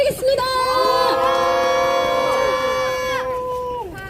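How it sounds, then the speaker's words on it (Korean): Crowd cheering and whooping at a university students' press conference held outdoors, a sustained wall of voices with shouts and rising calls, loud and close throughout. "큰 박수와 함성 부탁드리겠습니다."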